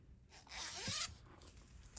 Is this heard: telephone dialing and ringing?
no